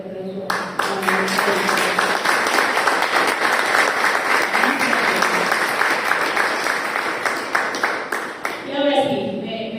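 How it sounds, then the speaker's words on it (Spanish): Sustained audience applause at a book talk, dense steady clapping filling most of the stretch, with a voice briefly heard before it starts and again as it fades. "fuerte aplauso"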